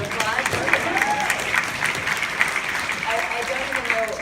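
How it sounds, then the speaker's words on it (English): A round of applause from an audience, steady clapping throughout with some murmured voices mixed in. "she deserves a round of applause"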